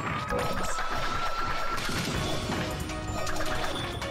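A melee strike landing in a boss fight in a video game, heard as a loud, dense crash and clatter of impacts sustained for several seconds amid layered game effects.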